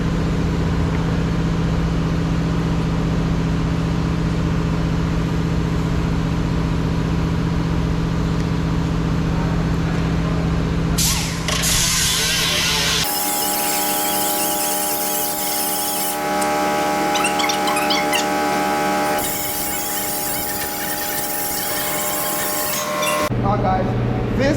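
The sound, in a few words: grinding car door skin metal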